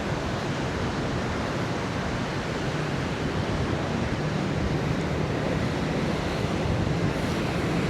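Ocean surf breaking on My Khe Beach in Da Nang, a steady, loud wash of waves rolling in without pause, with some wind rumble on the microphone and no voices.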